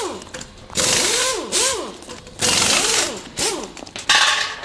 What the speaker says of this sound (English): we are just going to remove these screws on each side here and slip the backrest off of this